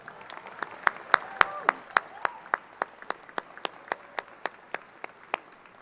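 Applause at a college graduation ceremony, heard as sparse, distinct claps ringing out in an even rhythm, each sharp and well separated against a quiet hall rather than a full crowd roar.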